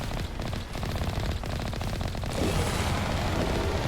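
Rapid, continuous automatic gunfire from the video game Mass Effect Legendary Edition, a dense rattling burst that runs without pause and grows slightly louder and harsher near the end.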